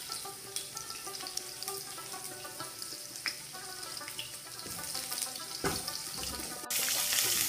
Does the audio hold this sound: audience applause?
no